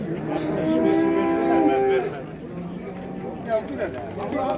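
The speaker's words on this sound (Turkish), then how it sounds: "Burada bir tane inek var." Cow mooing at a livestock market in Yıldızeli, Sivas, Türkiye, a long, loud, drawn-out low moo over market crowd chatter and background voices.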